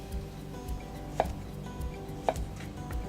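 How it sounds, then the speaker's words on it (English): Knife slicing peaches into wedges on a cutting board, two crisp distinct chops with faint lighter taps between them, close and quiet with no talking. "So simply cut the cheeks off your peach and cut your peaches into wedges."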